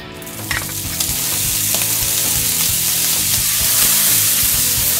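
Olive oil sizzling hard in a pan, a loud, dense, continuous frying hiss that builds and then holds steady, with faint stirring underneath and no talking.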